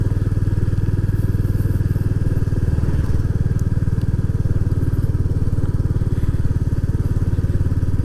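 A Royal Enfield Classic 350 motorcycle rumbles steadily while ridden through the Northumberland hills, its engine thumping close and loud with a constant, even beat and no talk.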